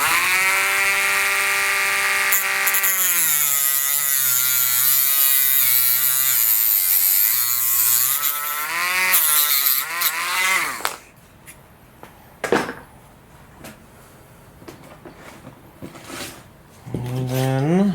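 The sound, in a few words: Dremel tool trimming excess off a tail boom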